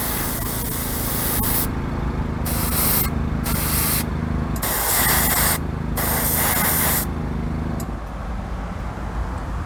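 An airbrush sprays a wet coat of House of Kolors paint in steady hissing passes, each lasting about a second or two and separated by short pauses, loud and close, with no voices.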